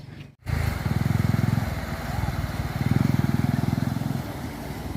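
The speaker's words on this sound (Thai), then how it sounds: "ขี่ซาเล้งเที่ยวสะพาน มิตรภาพ" A motorcycle with a sidecar, a saleng, rides along with a steady engine drone that swells and eases with the throttle, close and continuous throughout.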